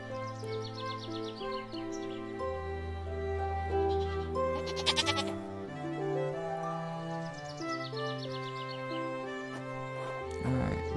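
Goat bleats in the Harvest Island farming video game, a few wavering cries rising over a steady bed of cheerful game music.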